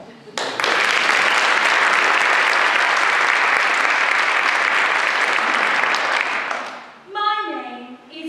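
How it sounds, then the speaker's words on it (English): A theatre audience gives a loud round of applause before a stage comedy act, thick steady clapping that fades out near the end as a voice begins speaking. "let's give a big round of applause"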